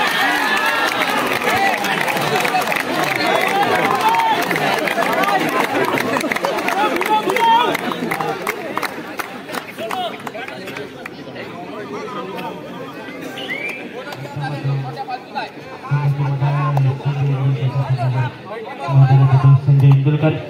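Spectators crowd a taluka-level kabaddi tournament final in Devrukh, with a continuous babble of chatter and movement filling the air and a low droning hum near the end.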